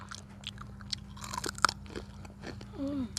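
Crispy dried banana chips crunched and chewed close up, a few sharp bites followed by steady chewing, with no talking.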